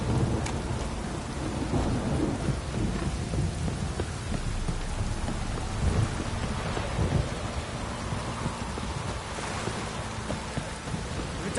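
Steady heavy rain pours with low rolling thunder in The Witcher III, a dense unbroken downpour filling the scene at close range with no voices.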